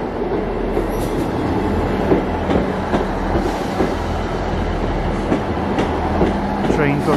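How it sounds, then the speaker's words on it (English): A train bound for Inverness rumbles past close by at Dunrobin Castle station with steady rolling noise, rhythmic wheel clatter and a faint squeal near the end. "Train for Inverness."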